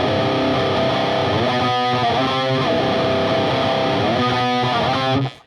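Distorted electric guitar slowly playing octaves from a song, with thick sustained notes that ring and change pitch over a steady, loud wash of distortion and no talking.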